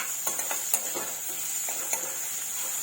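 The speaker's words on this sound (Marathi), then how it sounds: "चांगला असा तेलामध्ये परतून घ्यायचा आपण" Chopped onion sautéing in hot oil in a pan over a low gas flame for a raw jackfruit bhaji, giving a soft, steady sizzle broken by light stirring scrapes and taps, close by with no talking.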